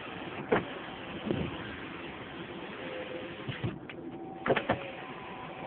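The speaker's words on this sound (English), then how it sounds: "Power windows work." Power windows on a 1994 Mercedes C280 sedan run with a quiet, steady motor whir. A few soft clicks and thumps mark the windows starting and stopping, and there are no rattles.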